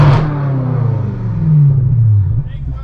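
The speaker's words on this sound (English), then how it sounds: "Can you rev it real quick?" A BMW M6 Gran Coupe with a 4.4-liter twin-turbo V8, tuned to 800 hp with a manual gearbox, revs up close: a deep, loud, throaty drone swelling briefly and then settling, heard from right beside the car.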